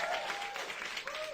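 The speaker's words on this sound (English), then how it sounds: "I just want to do another huge round of applause for Rebecca Bailey" Applause from a live audience at a theatre performance, a steady broadband patter of clapping holding for about a second and a half with a faint tone gliding through.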